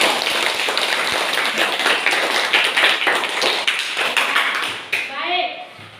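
A classroom of students claps for several seconds, with dense, sharp hand claps that stay loud and even, then break off abruptly near the end as a voice begins to speak.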